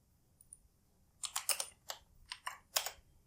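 Quiet clicks of a computer keyboard as a short command is typed, a brief cluster of keystrokes close by against near silence, with no talking.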